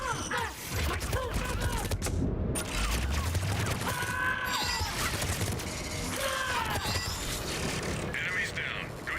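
Gunfire erupts in a Mass Effect firefight, with rapid bursts, mechanical clatter and impacts crowding together, plus synthetic whines and voices mixed in.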